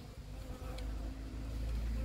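Honey bees hum in a steady, close drone around an open hive, a dense continuous buzz with occasional low knocks and handling noises.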